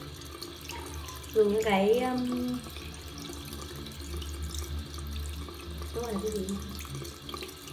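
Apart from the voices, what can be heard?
water running from a tap while washing the face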